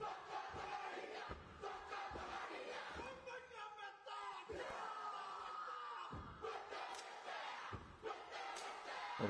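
Crowd roar and massed chanting voices from a Matatini kapa haka competition performance, loud and continuous with rhythmic shouted haka calls throughout.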